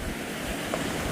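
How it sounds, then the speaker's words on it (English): Pacific Ocean waves at Jordan River beach on Vancouver Island, Canada, a continuous broad wash of surf with wind buffeting the microphone, close and steady through the short stretch. "Oh, it's a huge wave."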